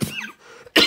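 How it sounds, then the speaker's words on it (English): A single sharp cough bursts out near and loud at the start, followed by a short hush and a second harsh cough, during hobby work weathering a 1/32 scale Mk. XIVc Spitfire model kit. "Been having a cough lately."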